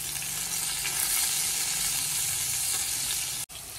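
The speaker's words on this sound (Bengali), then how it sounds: "ফ্রাই প্যানটা যেহেতু অনেকটা বড়, এর জন্য আমি সব পটলগুলো একবারেই দিয়ে দিয়েছি" Pointed gourds (potol) sizzle all together in a large frying pan, a loud, dense, continuous frying hiss close by with stirring clatter and a brief break near the end, no talking.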